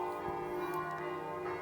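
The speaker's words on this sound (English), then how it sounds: "This sound, it's the bell tower of the church." A church bell tower rings at noon, its sustained metallic tone humming steadily and fairly faint in the background, with no talking over it.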